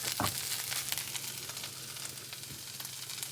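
Potatoes and carrots stirred into egg-puff masala in a pan, a steady close-up sizzle with scraping and clicks from the spoon, no talking.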